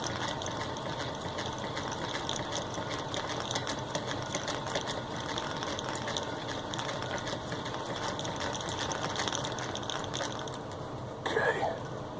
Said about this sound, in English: And basically you just treadle away or crank.